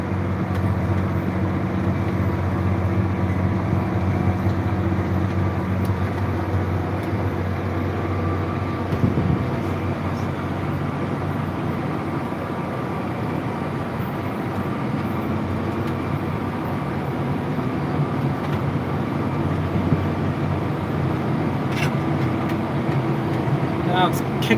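A John Deere 7290R tractor pulling a Case 330 Turbo Till through moist soil, its engine droning steadily and close by with the revs gradually rising, while a person talks over the running machine.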